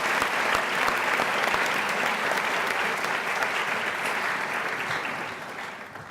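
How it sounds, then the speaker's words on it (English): Audience applause for an organist at a 2019 university honors convocation: dense, steady clapping from a large crowd filling the hall, loud throughout and tapering slightly at the end, with no voices over it. "If you could all give him a warm round of applause."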